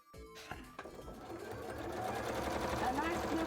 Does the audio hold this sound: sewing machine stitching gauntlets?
yes